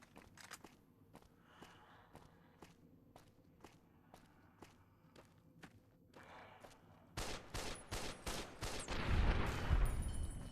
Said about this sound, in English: Let's get the automatic rifle out.